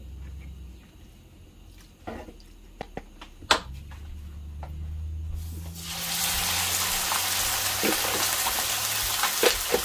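Beef liver drops into hot oil for hígado encebollado: a few clicks and taps, then a sudden loud, steady sizzle and crackle that fills the last several seconds, close and continuous, with no talking.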